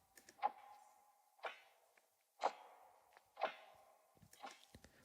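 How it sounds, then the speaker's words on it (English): Layered clock-ticking samples in a lofi hip hop beat, a steady tock roughly once per second with a resonant, slightly ringing tone, clear and close with no voices. "I just love these clock sounds"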